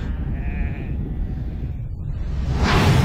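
Sheep bleating in a horror film trailer, a single drawn-out bleat near the start over a low rumbling score, followed by a rising whoosh at the end.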